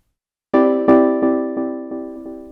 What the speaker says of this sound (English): the echoes from the delay, they don't go through the reverb